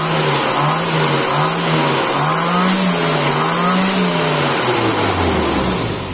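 A Toyota Kijang engine revs right after its ignition coil was replaced. It sounds loud and close, rising and falling repeatedly as the throttle is blipped, then winds down near the end, with no talking.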